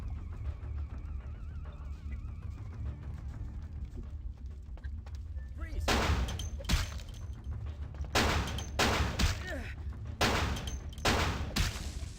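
Bursts of gunfire in the video game Vampire: The Masquerade - Bloodlines, with several loud, spaced volleys in the second half over a low rumbling game backdrop.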